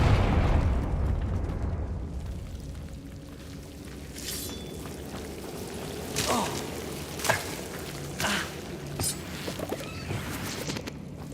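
A Confringo spell blast in Hogwarts Legacy video game, an opening explosive boom that decays into a low rumble, followed by several sharp whooshing bursts and pops spaced a second or so apart.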